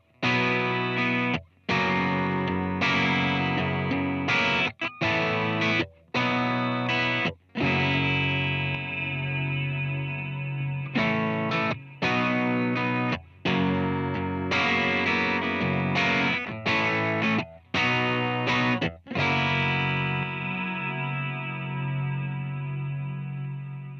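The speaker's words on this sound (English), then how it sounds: "When the pedal is off, you can hold it down to momentarily add a touch of reverb, which will fade out as you let go of the bypass switch." An electric guitar plays loud, distorted chords through a Walrus Audio SLÖ reverb pedal in short, repeated phrases broken by abrupt pauses, with a reverb tail that fades out at the end.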